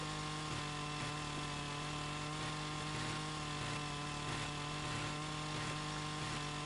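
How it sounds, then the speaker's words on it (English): A chainsaw in Farming Simulator 25 runs at a steady high buzz while cutting the branches off a log, loud and continuous with faint periodic dips as it works along the trunk. "Angle the chainsaw along the side of the log. And just walk forward."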